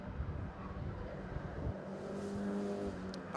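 Mazda race cars at Anglesey circuit roar past with engine notes rising and falling, one car's revving pitch climbing clearly toward the end, moderately loud with no voices.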